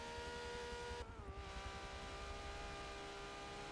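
A 1995 Ferrari F50 in a Forza racing game on an Alpine circuit, its engine droning steadily at sustained revs, the pitch dipping briefly before settling into a constant loud hum alone.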